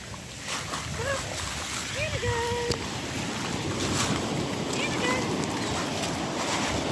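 Large sea waves break and surge in strong wind at Hayling Island beach, a dense continuous roar of surf and wind gusts close to the microphone, with speech-like voices and short tonal calls heard faintly over it.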